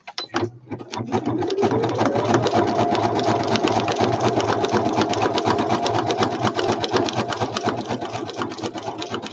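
A sewing machine runs a zigzag stitch, a close, steady rapid mechanical whir and needle clatter that starts with a couple of short bursts and then runs continuously.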